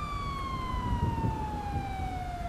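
Police car siren in the video game GTA 5, a loud, steady wail gliding slowly downward in pitch, continuous over low rumbling engine and street noise with no talk.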